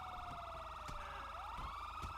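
Police car siren in GTA 5 wailing steadily and loudly throughout, its pitch sweeping down and back up over a constant electronic tone, with no talking.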